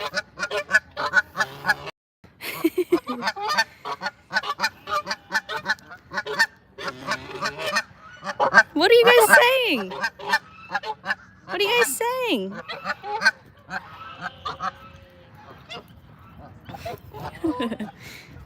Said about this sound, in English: So we do have a number of wild Canada geese who live here